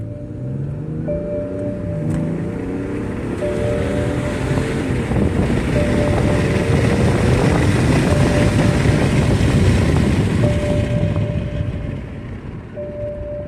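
A 2011 BMW 535 engine pulls under high boost with the throttle nearly floored, a steady loud drone mixed with heavy wind and road rush and a rising whine throughout.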